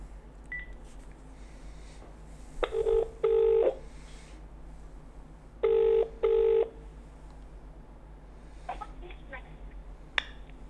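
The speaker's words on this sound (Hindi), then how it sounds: "चलिए पहला फ़ोन लगा" Telephone keypad tones dial out a call during a live game show: two pairs of steady beeping tones in separate bursts, with faint background hum and a few small clicks and chirps between them.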